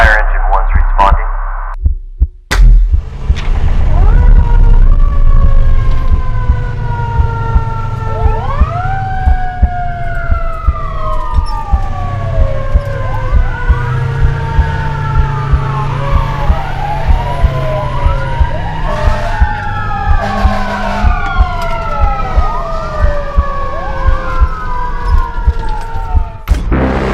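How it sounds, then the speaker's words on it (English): Hemet Fire Department engines responding to a call, loud overlapping wailing sirens rising and falling from several vehicles at once, with an air horn blast near the start and engine rumble underneath. "Hemet Fire Engine 1's responding."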